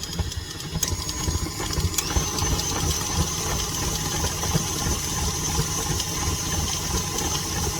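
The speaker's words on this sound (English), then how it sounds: "Put on my attachment. And I just start mixing." An electric hand mixer whips tallow body butter with a steady, continuous motor whir and rattle, close up and loud throughout, with no talking.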